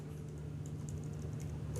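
Soft keystrokes tap on a computer keyboard during coding, a quick uneven patter over a low steady hum, quiet and close.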